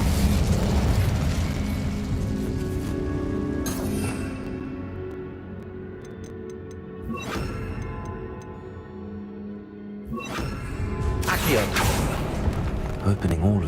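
A burst of fire-spell casting in Hogwarts Legacy: broadband whooshing flares near the start, around seven seconds and again near ten, over continuous game music and ambience, loud and close.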